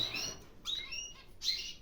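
Pet canaries in a breeding cage chirp and tweet in bright, repeated bursts over a steady low background hum, with three clear clusters of calls at close range.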